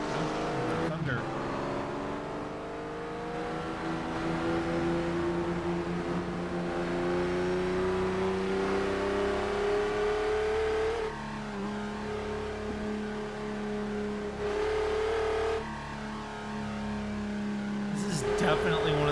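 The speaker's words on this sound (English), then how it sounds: "Definitely one of the coolest sounding cars." A car engine in the video game Test Drive Unlimited 2 roars and climbs in pitch through the gears, revving loudly and continuously, with brief drops at each shift.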